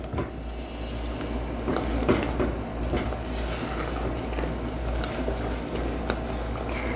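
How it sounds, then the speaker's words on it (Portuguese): Brigadeiro sauce stirred in a pan over low heat for a chocolate cake topping, a soft, continuous scraping and sticky swishing with a low hum underneath, close and quiet. "E vou mexendo aqui até ferver e começar a desgrudar do fundo da panela."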